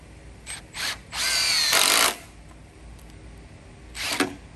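A power drill drives screws into a carport post and beam during a post-and-beam build, with a few short bursts followed by a longer one-second whir, then a final brief burst, close and fairly quiet.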